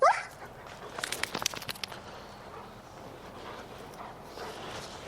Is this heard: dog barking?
yes